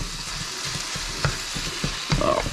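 Hybrid fish and onions sizzle and fry in a pan, a steady crackling hiss broken by a few louder stirring scrapes and clatters near the end, with no talking.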